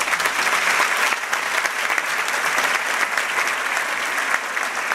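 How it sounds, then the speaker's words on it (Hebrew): An audience at an awards ceremony for outstanding residents in Eilat claps steadily, a loud, dense applause that holds for several seconds. "קודם כל תנו להם מחיאות כפיים"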